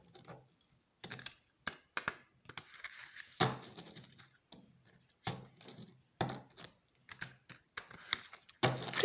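Tarot cards being reshuffled by hand, a run of soft riffling and tapping bursts at close range, irregular and clicky, with short pauses between clusters and no talking.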